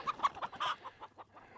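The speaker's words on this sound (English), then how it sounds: "we've got about 60 hens in here" About sixty hens cluck in a coop in the morning: close, busy, overlapping clucks and short calls in quick uneven bursts, with no people talking.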